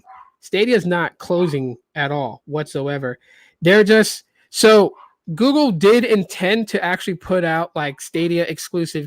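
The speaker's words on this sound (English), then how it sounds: "Please excuse my dogs. They are just going off." Dogs bark and yip excitedly in the background of a room while someone talks continuously over them about video games.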